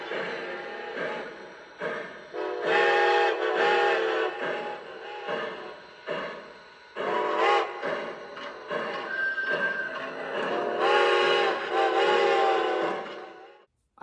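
Recorded train sounds recorded in Strasbourg, Pennsylvania play from a model train, a loud sequence of whistle and horn-like tones in repeated bursts with short gaps, ending abruptly.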